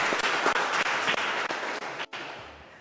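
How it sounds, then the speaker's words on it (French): An audience applauds the mayor of Mengang, Gabriel Bienvenu Aya, at a radio interview: steady, dense clapping that holds fairly loud and close, then breaks off briefly near the end before resuming more softly. "Est-ce qu'on peut applaudir le maire Gabriel Bienvenu Aya?"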